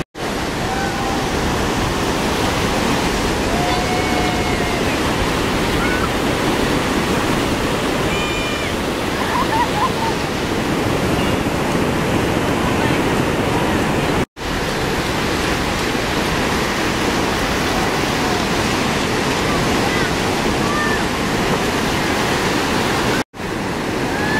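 Ocean surf breaks on a beach at a surf camp, a constant loud wash of waves with two brief dropouts, and faint voices occasionally surface beneath the roar.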